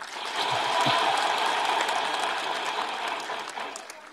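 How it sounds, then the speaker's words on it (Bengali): An audience at a speech event claps together in a sustained, dense burst of applause that swells early and holds steady, fairly loud and fading slightly toward the end. "আমাদের উচ্ছ্বাসের জন্য একটা জোরে হাততালি দিই"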